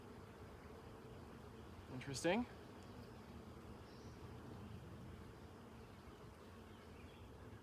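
Honey bees in an open hive, their faint, low buzzing running steadily in the background, with one brief spoken word partway through.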